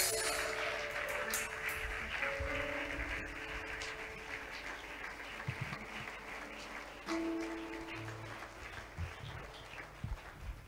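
Church congregation applauding and cheering for Jesus Christ during a sermon, a steady wash of clapping and voices throughout, with tonal music or sustained notes underneath.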